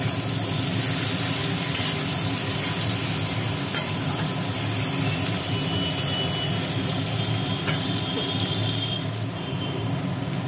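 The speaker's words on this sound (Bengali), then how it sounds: "এদিকে পেঁয়াজ টমেটো ভাজি হচ্ছে" Onion and tomato frying in a pan give a steady, dense sizzle close up, with faint stirring scrapes now and then and no talk over it.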